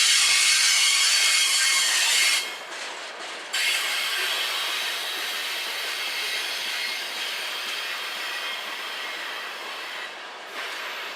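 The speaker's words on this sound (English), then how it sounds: "the engines at the rear of the train come into view" A BNSF freight train passes with SD70MAC helper engines at the rear, a loud sustained roar of wheels and rails with hissing, squealing high tones and a steady rumble throughout.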